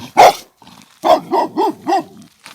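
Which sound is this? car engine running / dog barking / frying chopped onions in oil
dog barking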